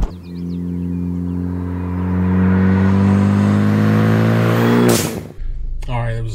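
A Ford Focus ST driving on a road, its engine giving a steady droning hum that rises gradually as it accelerates, then a sudden rush and a sharp break near the end, with someone talking over it.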